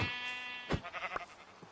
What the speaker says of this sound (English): I'm looking at sheep in the eyes.